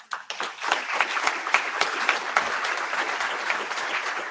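A conference audience applauding steadily after a talk, dense close clapping that swells quickly and holds with little else audible.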